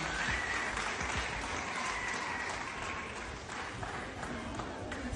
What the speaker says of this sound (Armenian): Բարձր ծափահարենք նաև Արամ Ավետիսյանին